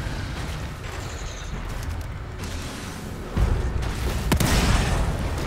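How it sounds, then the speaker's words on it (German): A barrel shot in The Evil Within 2 explodes with a sudden deep boom that rolls over a steady rumbling game ambience, followed by a sharp crack and continued heavy rumble. "Ich wollte auf das Fass schießen,"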